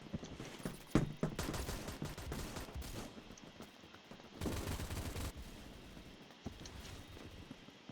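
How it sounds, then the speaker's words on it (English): Rapid bursts of gunfire from a medium-range rifle in the Roblox game Phantom Forces, several sustained volleys separated by short pauses, loud and close with the muffled game ambience between bursts. "it's a medium range weapon, so it's good for both long range and short range"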